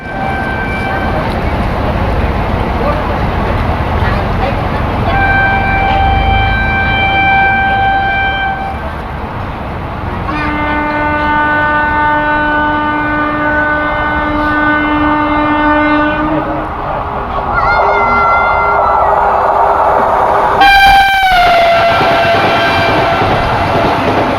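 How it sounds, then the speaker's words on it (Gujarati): A Vande Bharat Express rolls into a station with a loud, steady rumble, sounding several long horn blasts, a brief sharp high burst near the end, and faint voices now and then. "ચાલો મિત્રો આવે છે વંદે ભારત એક્સપ્રેસ"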